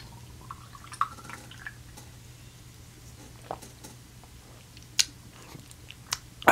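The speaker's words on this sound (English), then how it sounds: "I just drank a PBR." Someone drinks a can of Pabst Blue Ribbon beer, with faint close sips, swallows and a few sharp can clicks scattered over a quiet, steady background hum.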